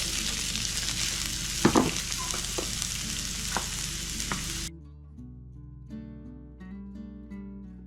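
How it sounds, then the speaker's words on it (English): Peppers and onions fry in garlic-infused oil with a close, steady sizzle and a few sharp pops, then the sound cuts off abruptly to quiet background music. "I'm gonna get pepper in there and some of these onions."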